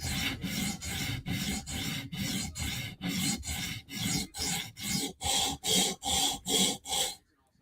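A knife blade sharpened with a sawing motion, with about fifteen steady rasping back-and-forth strokes, close and loud, building in intensity toward the end before stopping.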